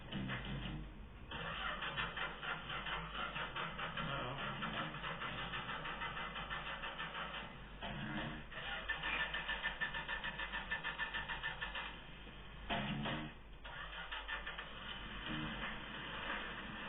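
An old Chrysler slant six engine cranks and catches, then runs steadily with a rough, loud mid-pitched drone, with brief dips and restarts along the way.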